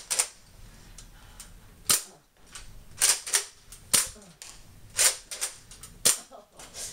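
Nerf blasters firing darts during an indoor Nerf battle, a series of sharp, snappy shots at irregular intervals, some in quick pairs, fairly close with quiet room noise between.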